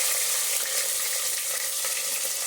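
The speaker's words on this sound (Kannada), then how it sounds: "ಹಸಿರು ಮೆಣಸಿನ್ಕಾಯಿ ಎಲ್ಲ ಫ್ರೈ ಮಾಡ್ತಾಯಿದ್ದೀನಿ" Onions and green chilies frying in a pan, giving a steady, close sizzle and crackle that runs unbroken throughout with no voices.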